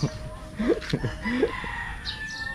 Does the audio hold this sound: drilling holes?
no